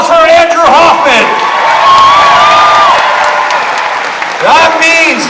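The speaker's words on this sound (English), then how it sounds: "A nice round of applause for Andrew Hoffman." An outdoor crowd at a jousting show at Scottish games claps and cheers loudly and steadily, with whoops and shouts on top, while an announcer's voice carries over it.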